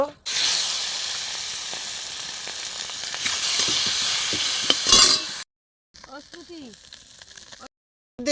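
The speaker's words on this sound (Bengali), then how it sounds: "ট্যাংরা ও পাবদা মাছের দিলকুশ করার জন্য মাছগুলো আগে ভেজে নিতে হবে" Tengra and pabda fish frying in oil produce a loud, dense sizzle and crackle for about five seconds, followed by brief cuts to quieter stretches with faint background sounds and a voice-like murmur.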